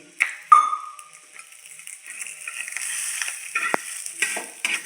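Onion fried a second time in a little oil while making ghugrya amti curry, a steady soft sizzle with occasional stirring scrapes and a sharp clink from a utensil, near and moderately loud, no talking.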